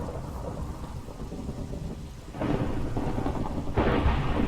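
A Minecraft thunderstorm: steady rain hissing throughout, then two loud rumbling thunder crashes break in and swell near the end, with no voices.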